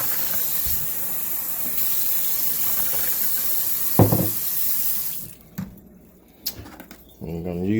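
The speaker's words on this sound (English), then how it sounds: "Just gonna put some water in this bowl of ice." Tap water runs steadily into a bowl of ice for about five seconds, then stops, leaving a few faint clinks and handling noises before a voice speaks briefly near the end.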